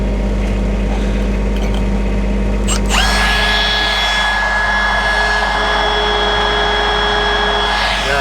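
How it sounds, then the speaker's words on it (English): A drill bores into metal on an outdoor welding site, starting abruptly about three seconds in and whining steadily at close range over a constant low machinery hum, with no voices. "it's drilling from this side now, whereas it wouldn't drill from the other side before"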